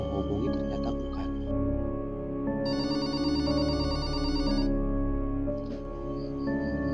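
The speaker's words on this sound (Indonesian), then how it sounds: "Namun tiba-tiba ponselnya berdering." A mobile phone ringing with a repeating electronic melody ringtone, loud and close, its bright tones shifting pitch through several phrases without pause.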